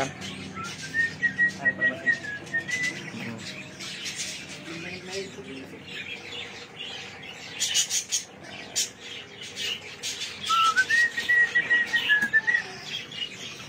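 A bird in an aviary whistles clear, rising and falling notes in two bursts, set against a busy background of chirps, squawks and indistinct chatter.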